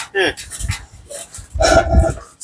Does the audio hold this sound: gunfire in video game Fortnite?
no